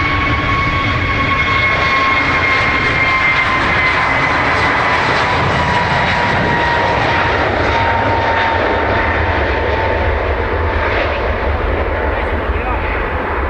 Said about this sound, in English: Aer Lingus off to EWR 321 Neo.